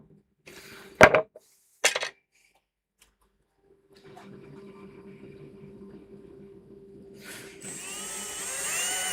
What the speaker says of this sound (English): I'm going to drill it here at the lathe